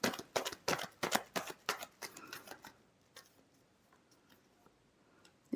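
Tarot cards being shuffled by hand in a quick riffling burst of crisp flutters and snaps over about two seconds, then a few faint card taps and near-silence.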